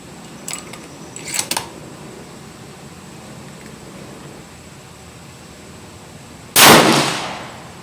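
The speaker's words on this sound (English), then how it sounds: "So I'm gonna do one click up and take a 1 shot and see where it is." A single Savage Axis XP scoped rifle shot on a range, one loud sharp blast near the end after a few faint clicks and a quiet stretch.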